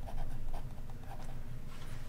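A fountain pen with a fine nib scratches across paper in short, close strokes, a soft rhythmic scraping with slight pauses between marks and no talking.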